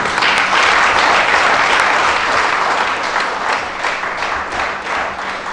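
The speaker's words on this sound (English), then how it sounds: "Please, a better round of applause for him." A festival audience at a herbal medicine event breaks into loud, sustained applause with dense clapping throughout, close and steady before easing slightly toward the end.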